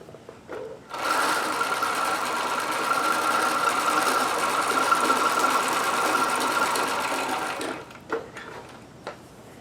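A sewing machine runs steadily as it stitches a final seam of elastic onto underwear, a fast continuous whirring hum lasting several seconds before stopping, with a few soft clicks around it.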